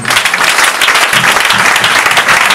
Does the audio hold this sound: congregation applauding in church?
yes